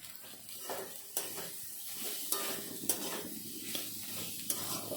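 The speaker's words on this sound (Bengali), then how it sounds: "আলুটা মশলার সাথে ভালো করে কষে নেব" Fried potatoes are stir-fried in spice masala, a steady sizzle broken by rhythmic spatula scrapes and knocks against the pan roughly every second, close up with no talking.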